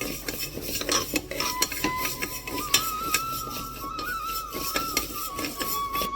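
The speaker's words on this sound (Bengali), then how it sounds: "ডালটাকে ভালো করে নেড়ে ভেজে নেবো আমি লাল করে।" Mung dal is stirred and dry-roasted in a pressure cooker on a gas stove for a village-style dish made with fish head, with rapid metallic scraping and clinking of a spoon against the pot, close and continuous, and no talking.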